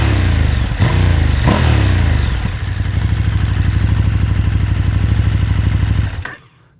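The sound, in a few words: KTM Super Duke 1290 GT motorcycle engine revving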